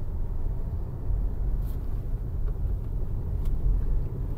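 Steady low road rumble from inside a car travelling a busy highway from Delhi toward Haridwar, a continuous engine and tyre drone with faint brief clicks and no talking.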